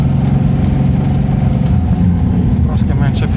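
A Lada VAZ 2101 pulls away with a steady, loud engine drone and rumble, clutch grabbing and something knocking at the rear, close by with no voices over it.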